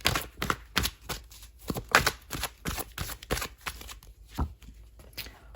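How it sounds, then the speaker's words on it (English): Oracle cards being drawn and handled at close range: a quiet, irregular run of crisp taps, flicks and shuffling rustles. "let's get the main oracle cards out"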